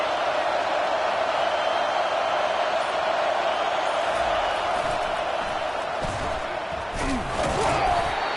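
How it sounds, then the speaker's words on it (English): Stadium crowd at a football game roaring in a steady, dense wash of cheering and shouting that holds loud throughout, with some swelling near the end. "This crowd trying to make life miserable for this offense."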